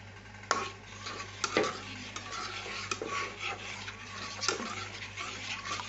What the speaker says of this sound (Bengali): দুধ দিয়ে হালকা করে নেড়ে নিচ্ছি, মিশিয়ে নিচ্ছি ভালো করে।